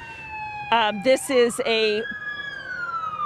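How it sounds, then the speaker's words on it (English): An Orange County Sheriff's police siren wails at a shooting scene in San Clemente, its pitch sweeping up and then slowly falling, while a voice speaks briefly over it. "I'm hearing more lights and sirens, more Orange County Sheriff's deputies showing up here at this scene."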